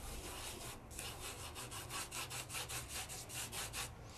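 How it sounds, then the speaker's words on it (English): Foil is rubbed by hand onto adhesive for no-heat foiling, a close, rhythmic back-and-forth scrubbing at about two strokes a second, steady and alone. "Now I'm going to rub. I'm not rubbing hard."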